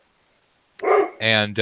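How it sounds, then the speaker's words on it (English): A dog barks indoors during an online tabletop roleplaying game session: silence, then two loud, close, sharp barks in quick succession, the second more tonal, with a third just starting at the end. "Okay, so sorry, that's my dog."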